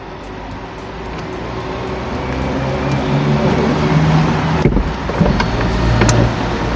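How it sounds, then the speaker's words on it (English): The electric soft top of a 2024 MG Cyberster AWD convertible closing, a steady motorized whir and hum with a couple of mechanical clunks near the end, heard close up and without talk. "this car takes a total of 15 seconds to switch from an open top to a closed top, which I can demonstrate right now"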